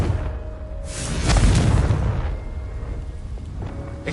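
A Confringo blasting spell explosion in the Hogwarts video game, a single loud, close boom that swells and then rumbles away over a few seconds.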